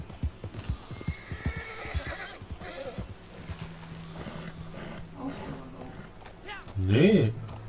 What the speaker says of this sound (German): Was ist mit meinem Pferd los?